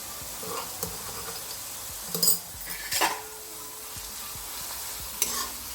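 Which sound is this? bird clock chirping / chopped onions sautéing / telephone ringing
chopped onions sautéing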